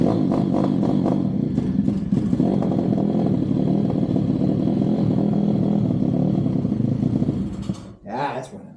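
A pit bike engine idles and revs after a new carburetor install, running rough with steady loud clattering and uneven throttle blips. The engine sputters and drops off near the end.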